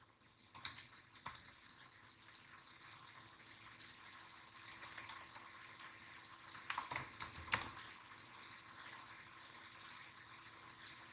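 Typing on a computer keyboard while writing HTML paragraph text, with bursts of quick clicky keystrokes near the start and a denser run later, fairly close and alone with no talking.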